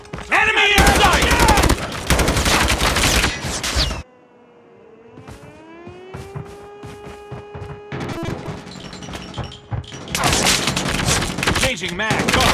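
Gunfire in Call of Duty Mobile: loud bursts of rapid automatic fire and impacts, then a quieter stretch of rising and falling tones, followed by more dense shooting. Voices call out over parts of it.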